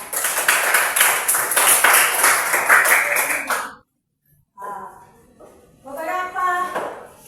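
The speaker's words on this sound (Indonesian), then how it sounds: "Tepuk tangan semuanya." Classroom applause in a teacher-training session, lively clapping from a group of students that stops abruptly, followed by a pause and then a speaking voice.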